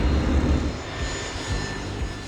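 Airplane flying overhead, a steady low engine roar that stays fairly loud and even throughout, with no voices.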